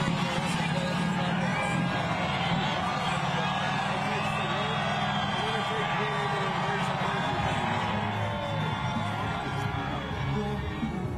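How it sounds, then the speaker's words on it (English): A huge crowd at the Philadelphia Eagles Super Bowl championship parade screams and cheers along the parkway, a steady, loud wash of whoops and babble with voices mixed in throughout. "I love hearing the crowds, the screaming of the crowds, and that's echoes through the entire parkway here right now."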